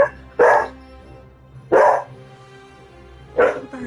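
A dog barks three times, loud and close, each single bark separated by a second or more of quiet.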